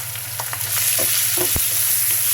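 Ground spices and pastes of cumin, ginger and a little garlic with coriander powder frying in oil with golden onions for a coconut prawn dish, a steady close sizzle broken by a few clinks and stirring scrapes, no voices.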